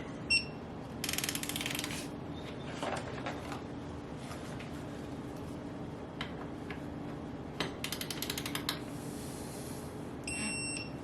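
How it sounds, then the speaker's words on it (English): Torque wrench tightening axle bolts on a Segway X260 supermoto build, heard as several close bursts of rapid ratcheting clicks separated by pauses, against a steady hum in the workshop. "So we're gonna go ahead and torque these down"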